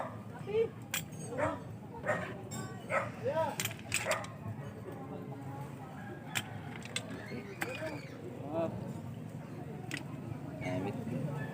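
A dog on Tandol beach gives a series of sharp barks and yips, fairly faint and set against a low background rumble, with people talking nearby.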